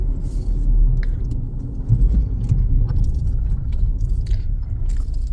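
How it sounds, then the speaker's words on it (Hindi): A Hyundai Tucson engine, just checked for P0016/P0017 camshaft and crankshaft correlation faults, idles with a steady, close low rumble and a few light clicks and ticks on top. "अभी आपके सामने बंद करके दोबारा इसको स्टार्ट करता हूँ"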